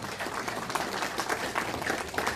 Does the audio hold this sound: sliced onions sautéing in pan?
no